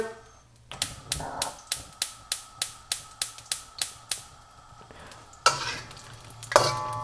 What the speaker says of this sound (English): after you've been stir frying, the sides around the ginger will begin to curl up